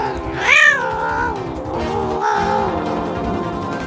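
A cat meows loudly and close up in drawn-out, wavering caterwauls, two long rising and falling cries with a steady murmur of background noise underneath.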